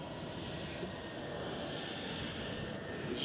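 A fixed-wing airliner's engines roar steadily at Nashville International Airport, a broad continuous rumble filling the scene at moderate loudness with no talk.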